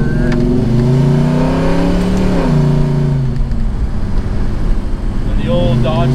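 A Dodge 360 V8 car engine with big cam heads, long tube headers and a big stall converter revs loudly and steadily up close, its pitch climbing and falling, with people talking over it.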